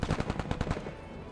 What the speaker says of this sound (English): take a couple of pot shots at somebody